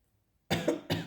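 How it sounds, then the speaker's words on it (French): Two sharp, close coughs in quick succession after a moment of near silence. "Pardon, je tousse."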